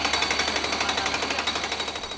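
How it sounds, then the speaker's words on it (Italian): A jackhammer demolishes seven garages in Piazza Bassi, pounding in a fast, steady, unbroken rhythm, loud and close throughout without any voices. "Sono cominciati stamani i lavori di demolizione dei 7 garage in Piazza Bassi"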